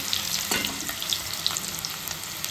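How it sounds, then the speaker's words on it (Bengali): Potatoes frying in a pan beside paneer, giving a steady close sizzle with light crackles and occasional stirring, alone without talk. "আলুটা ভাজা হোক"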